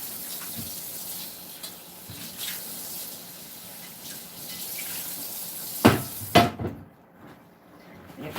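Tap water runs and splashes while tomato sauce is rinsed out of an iron skillet, with a steady spray, a couple of louder knocks near the end, then the flow stops.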